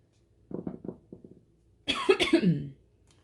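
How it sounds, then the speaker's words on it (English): A few soft, muffled coughs, then a louder, harsher burst of coughing close by, with a brief quiet between them. "And of course now is when you cough."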